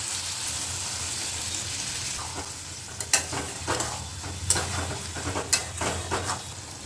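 Mustard and green chili paste fries in a pan for a puishak chochori, a soft steady sizzle broken by several sharp scraping stirs toward the end.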